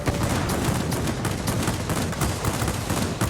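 Dense, continuous rapid gunfire from anti-aircraft guns in the World of Warplanes combat flight game, loud and sustained throughout with no pauses.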